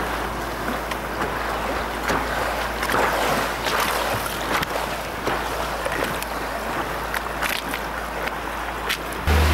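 A boat travels on the Rio Dulce river in Guatemala, with a steady engine drone beneath continuous wind and water rush and occasional splashes, close and constant.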